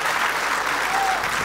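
An audience claps for the band, a dense, steady wash of applause from a crowd that holds evenly through the brief moment without any voices over it.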